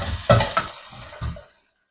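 Meat searing in a hot pan for a home-cooked meal, with a few sharp sizzling bursts and stirring scrapes over roughly a second and a half, then falling silent.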